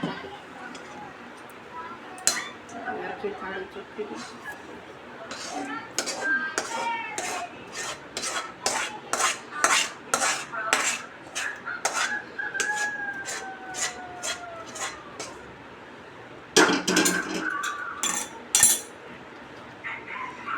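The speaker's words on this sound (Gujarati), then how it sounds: "હવે એને થાળીમાં પાથરી દેવાની" A spoon scrapes and taps as a sweet fasting mixture is spread onto a plate, producing a run of quick, regular clicks. A rooster crows and clucks loudly nearby, and a voice speaks at points.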